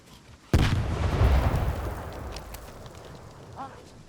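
A grenade explodes in a video game: a sudden booming blast rumbles and decays over a few seconds, followed by a brief small pop, heard without talk.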